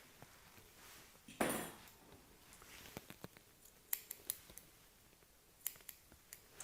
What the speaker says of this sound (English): So I've just trimmed away the hair in front of the eyes there